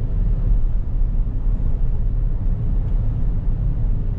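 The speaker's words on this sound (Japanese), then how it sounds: "アクセル結構ベタ踏みにするとね、それなりにエンジンの音入ってくるよね" A 2023 Mitsubishi Delica Mini kei car under hard acceleration, heard from inside the cabin as a steady, dense low engine rumble with road noise that holds evenly throughout.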